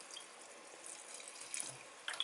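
Rainwater trickles from a small bottle onto carnivorous plants and into their tub, a faint, steady pour and splash with a few brighter drips, close by and alone.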